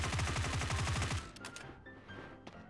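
Close-range automatic weapon fire in a first-person shooter: a fast, steady burst of around ten loud shots that cuts off, followed by faint clicks and light mechanical handling noises.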